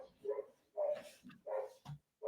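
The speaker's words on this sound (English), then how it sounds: "I can hear the dog barking." A dog barks several times in the background, with short separated yelps in an uneven rhythm, fairly faint and mixed with indistinct room sound.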